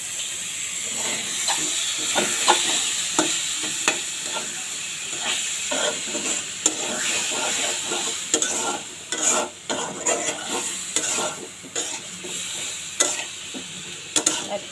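Ginger, garlic and cumin frying in a pan, giving a loud continuous sizzle and hiss with repeated stirring scrapes and taps throughout, close by and with no voices.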